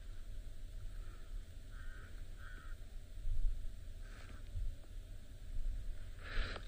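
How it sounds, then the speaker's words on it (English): A pied crow caws repeatedly in the open bush, with several harsh, spaced calls standing out over a steady low rumble of wind and background noise. "That pied crow is making an awful lot of noise."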